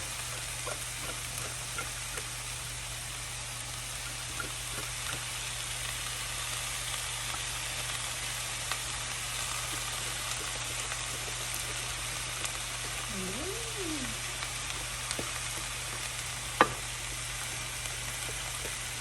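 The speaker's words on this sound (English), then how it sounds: "I'm gonna put in my bean sprouts now" Bean sprouts frying in a pan for vegan vegetable chow mein give a steady, even sizzle and hiss that runs the whole time, with one brief sharp knock near the end.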